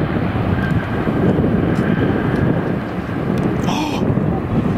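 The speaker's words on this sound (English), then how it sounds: "This Boeing 747 hit a wind gust right before touching down," A Boeing 747 airliner's engines roar loud and steady through a windy approach and go-around after a gust-induced float, with wind buffeting the microphone throughout.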